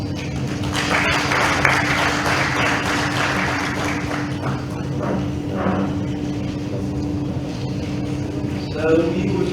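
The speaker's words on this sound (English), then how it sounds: "Shall we continue with this round of applause as we close the statement?" An audience at a 2021 cyber security awareness conference applauds with a diffuse, moderate patter of clapping in the hall over a steady electrical hum. It thins out as a voice speaks over the amplified sound system.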